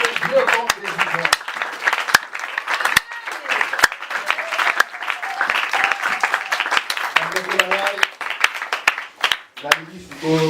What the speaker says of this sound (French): Nous acclamons la parole de Dieu